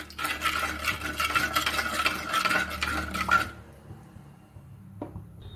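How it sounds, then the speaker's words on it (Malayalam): A spoon stirs a roasted coconut curry with green chillies, ginger, curry leaves and salt in a pan, scraping and sizzling briskly for a few seconds. The stirring then stops, leaving near quiet and a single light clink. "ഇതൊന്ന് നന്നായിട്ട് ഇളക്കാം"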